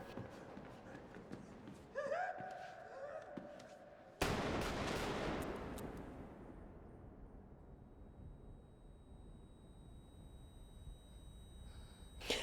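Gunfire in a scene from the 2019 film Joker where a man crawling toward a staircase is hit by three more shots: a sharp loud blast around the middle, then a long fading ringing decay, after quieter earlier sounds.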